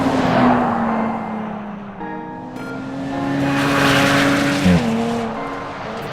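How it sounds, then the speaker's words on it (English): A 2018 Jaguar XE with a 3-liter supercharged V6 driving hard, its engine note climbing and holding as it revs, with a brief shift-like dip near the end, loud and close with no talk. "there's nothing like a supercharged V6, and this 3-liter supercharged V6 is from the F-Type Jag"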